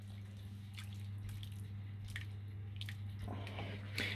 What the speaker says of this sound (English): It's got a funny sort of a thick splashing sound.